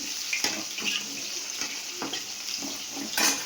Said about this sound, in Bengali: এদিকে মাছ ভাজা যাচ্ছে